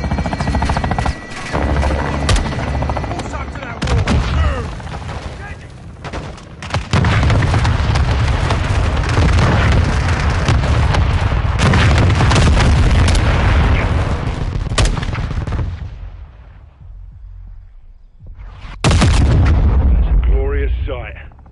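Heavy artillery strike pounding a building in Modern Warfare II, loud sustained blasts and rumbling debris, a brief lull, then another sharp booming impact near the end.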